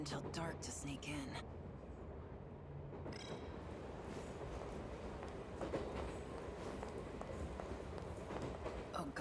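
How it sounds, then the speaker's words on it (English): A train rumbles along steadily in the video game 13 Sentinels: Aegis Rim, giving a continuous low roar with faint rhythmic clatter, and a voice speaks briefly over it. "I'll take this train to the last stop, and then wait near the facility."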